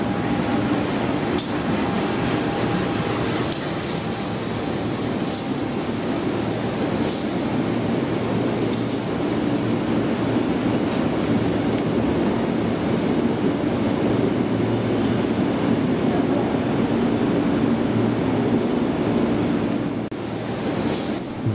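Kertajaya train rolling along the rails, a steady loud rumble heard from on board, with periodic rhythmic clicks of the wheels over rail joints and no talk.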